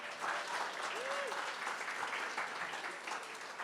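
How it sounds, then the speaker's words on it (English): A crowd applauding at a charity art auction, with steady, dense clapping throughout that sounds somewhat distant and roomy, joined by a faint whoop or voice rising above it. "can we have another big round of applause for Stefano Catalani?"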